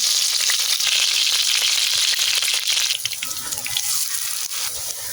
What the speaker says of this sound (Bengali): এইভাবে একইভাবে সমস্ত কাঁঠালের কোপ্তাগুলো ভেজে নেব।